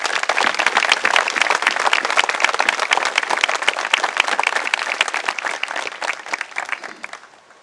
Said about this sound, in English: join with me in a round of applause to salute these kids and their faculty leadership for that effort